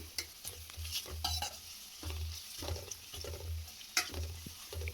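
Chopped onions frying in a pan for an egg masala avalakki, with steady sizzling and repeated rhythmic scrapes of a spatula stirring them.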